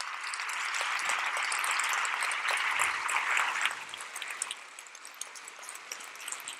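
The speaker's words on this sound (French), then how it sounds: "Vous applaudissez bien" An audience in a hall claps loudly in a dense, sustained burst that thins out and fades toward the end.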